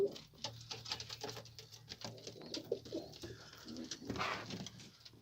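Pigeons coo repeatedly in a loft, soft close-up calls layered with rustling and light patter from the birds, under a low steady hum.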